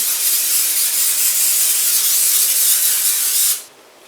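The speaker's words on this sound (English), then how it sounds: "just very generously spraying our bundt pan" A continuous spray of cooking oil hissing close by for several seconds as a bundt pan is coated, then cutting off abruptly.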